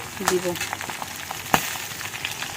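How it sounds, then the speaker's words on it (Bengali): Garlic and green chilli fry in oil in a wok with a crackling sizzle, broken by a few sharp clicks and scrapes of a spatula, heard up close. "এখানে দিয়ে দিলাম রসুন আর কাঁচা লঙ্কা, এটা হালকা হালকা ভাজা হবে"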